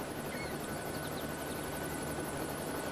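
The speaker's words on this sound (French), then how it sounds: "On va essayer de visiter un petit peu tant que je suis en hélicoptère" A helicopter in the video game LEGO City Undercover: rapid rhythmic thudding of rotor blades with a whining engine hum, continuous and steady as if flying overhead.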